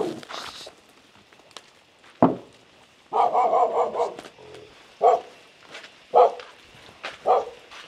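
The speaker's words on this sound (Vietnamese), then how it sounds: "Nhà của em với Khánh thì có chó rất là nhiều, có hai con chó rất là ghê" Two dogs at a rural house bark in loud separate bursts, close by, with quiet gaps and faint footsteps between them.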